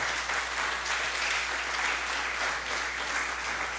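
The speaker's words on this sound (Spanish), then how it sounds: "Denle un aplauso, hermano." A church congregation applauds during a sermon, giving a steady, fairly quiet wash of clapping that holds level throughout, with a low hum beneath it.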